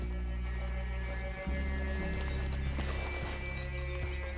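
Horses in the video game Red Dead Redemption 2 clop along with steady hoofbeats and let out a whinny, over a constant low hum of game ambience.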